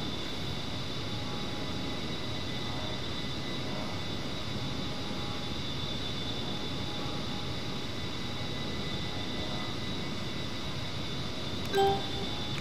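A-10C Warthog jet engines in the DCS flight simulator drone steadily during a low flyover of a runway, a continuous whining roar with a faint brief click near the end.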